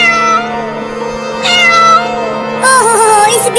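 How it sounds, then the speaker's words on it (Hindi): A big cartoon cat meows loudly in several long, drawn-out wails, with steady background music underneath. "वहाँ पर एक बड़ी बिल्ली चिल्ला रही है।"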